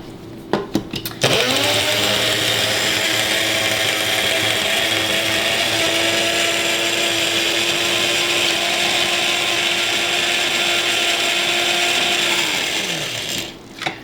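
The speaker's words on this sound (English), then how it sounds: "So I'm gonna grind it in a coffee grinder." A coffee grinder pulverises blue fenugreek seeds for Georgian ajika hot pepper sauce, a loud steady motor whine running continuously for about eleven seconds with a gritty grinding texture, starting and stopping abruptly.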